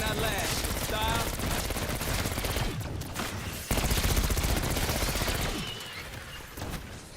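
Sustained automatic gunfire in the Call of Duty: Black Ops 6 game, dense rapid bursts rattling loudly and nearly continuously, with a voice talking underneath.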